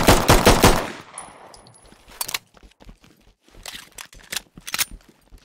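Gunfire in the tactical shooter Ready or Not: a loud burst of rapid shots opens, followed by a few scattered sharper reports and clatter amid quieter game sounds.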